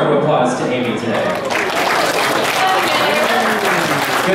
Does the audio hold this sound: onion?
no